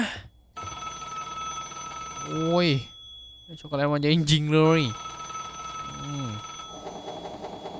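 A telephone rings in a video game with short repeated electronic trills in a few separate bursts, heard among game effects while a person talks.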